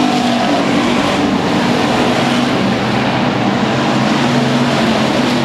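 Street stock race cars roar around a speedway during a final, a loud continuous dense engine drone with shifting pitch as the pack passes, filling the whole clip without pause.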